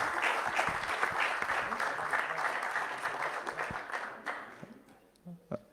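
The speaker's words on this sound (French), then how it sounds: "On peut les applaudir." Audience applause at a sports launch evening, a steady wash of clapping from a crowded room that thins toward the end, followed by a brief voice.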